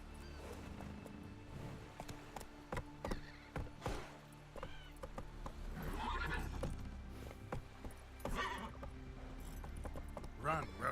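Hooves of Roach, a horse, clop along in a galloping rhythm, close and steady, with snorts and whinny-like bursts mixed in and riders' voices calling over the hoofbeats.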